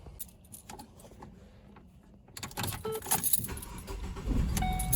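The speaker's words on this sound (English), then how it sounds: "Alright, so now that you've started your car," A Ford Focus being started: keys jangle close by, then the engine cranks and catches about halfway through, settling into a steady rising idle.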